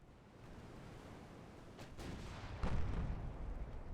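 Naval guns firing on heavy cruisers in Ultimate Admiral Dreadnoughts, heard as a low rumbling wash with a couple of muffled booms building toward the end, fairly faint and without speech.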